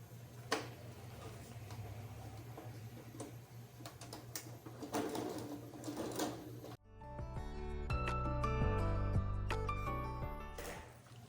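A sewing machine stitches the seam of a fabric shampoo holder bag. Quieter fabric handling and clicks come first, then a loud, close run of rapid mechanical stitching.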